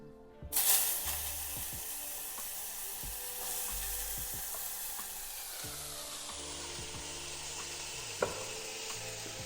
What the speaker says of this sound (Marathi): बटाटे पण चांगले भाजून घ्यायचे